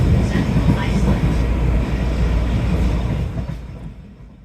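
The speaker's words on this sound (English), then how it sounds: "the sounds of the commuter coaches and the tracks underneath" Long Island Rail Road commuter coaches rolling on the tracks toward Penn Station, a steady, loud low rumble filling the interior that eases off and fades near the end.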